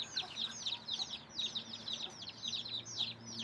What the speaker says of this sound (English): I will be accompanied by my neighbor's baby chicks